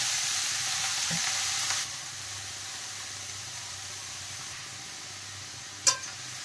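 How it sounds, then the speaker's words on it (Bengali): Grated carrots sizzle and fry in melted ghee with cardamom in a pan over a medium flame, a steady hiss that eases after a couple of seconds, with a sharp clink of a utensil near the end. "এখন এর মধ্যে গ্রেট করা গাজরগুলো দিয়ে দিলাম।"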